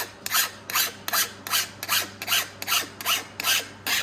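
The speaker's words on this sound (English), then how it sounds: "you just get a flat file and you just kind of go along and just push that edge back up" A flat file is pushed across the cutter teeth of a Stihl MS271 chainsaw chain, giving eight even, rhythmic rasping strokes about half a second apart. The scraping is close and clear, with no talking.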